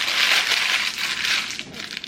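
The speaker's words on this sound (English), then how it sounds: "You crumple parchment paper and then you fold it to needs." Parchment paper being crumpled by hand before it is folded for an air fryer, giving a continuous close crackling and crinkling that runs steadily for about two seconds, with no talking.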